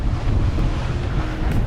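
Strong steady wind roars across the microphone aboard a Gunboat sailing catamaran on the Atlantic, with a broad low rumble of water rushing past the hulls, loud and continuous.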